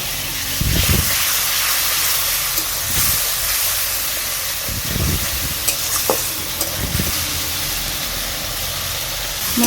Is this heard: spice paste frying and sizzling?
yes